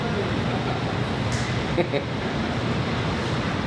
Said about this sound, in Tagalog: sobrang damig ng hangin sa labas